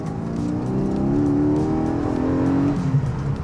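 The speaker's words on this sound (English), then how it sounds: "The only thing you really want to do is listen to the engine." Porsche 718 Boxster GTS 4.0 flat-six engine revving, a loud, smooth rising tone that climbs and holds before dropping back, heard close and alone without talk.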